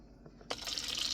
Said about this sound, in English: We might add a little water with this as well.